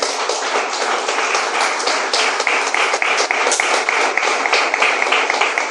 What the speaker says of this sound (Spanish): Bríndele un fuerte aplauso al Señor.